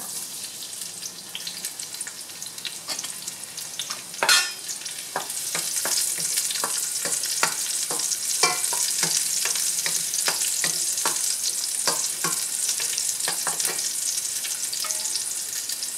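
Garlic fries in a pan with a steady sizzle, overlaid by frequent scraping and tapping from stirring, close and fairly loud, with no talking.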